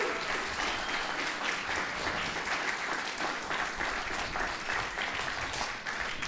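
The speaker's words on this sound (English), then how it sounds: "one more round of applause for all" An audience at a police department awards ceremony gives a sustained round of applause, dense and even clapping from many hands throughout without voices on top.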